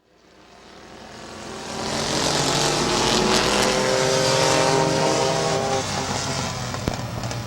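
Race cars roaring through turns 1 and 2 at Midvale Speedway, the engine noise swelling loud as the pack approaches and then holding as a continuous, close, high-revving roar.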